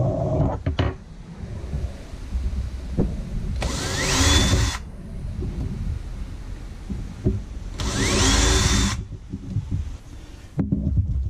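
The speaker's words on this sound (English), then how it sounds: "I'm going to drill each of those holes" Two bursts of a power drill whining up to speed while drilling holes in PVC pipe for a flute, each about a second long, separated by quieter handling noises and clicks.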